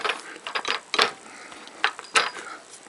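Gears and a mechanism inside a lathe cutting thread on polyethylene pipe click and rattle in irregular bursts of sharp metallic ticks, close and moderately loud, without speech.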